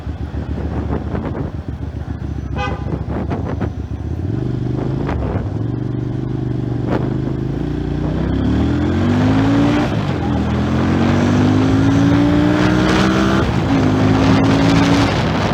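A Musatti Milano S400 motorcycle engine pulls through its gears on a test ride, droning and rising in pitch with each acceleration, dropping between shifts, loud and close against wind noise.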